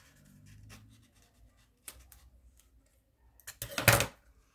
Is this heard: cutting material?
yes